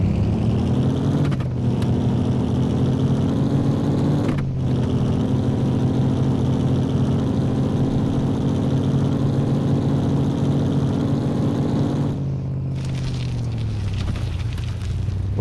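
Truck engine in the Off Road Outlaws video game, a loud steady drone holding pitch with rev changes, brief cuts near 1.5 s, 4.5 s and 12 s, and nobody speaking.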